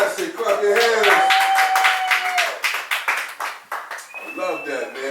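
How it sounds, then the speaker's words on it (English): An audience at a homeless benefit clapping, a run of distinct hand claps, sometimes rhythmic, that thins out toward the end, heard under someone speaking loudly over the crowd. "Show some love for Dr. Fantastic. Clap your hands."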